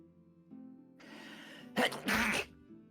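A single person sneezes during a pirate-themed tabletop role-playing session, with a short inhaled build-up followed by two sharp, loud bursts close to the microphone, then quiet.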